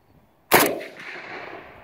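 A single loud AK rifle shot fired at a steel plate outdoors, a sharp crack followed by a decaying ring and echo, with no talk.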